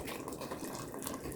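Hot water emptied from a steaming canning jar back into a water bath canner pot, a brief soft gush and splash of pouring water, faint and close, with no talk.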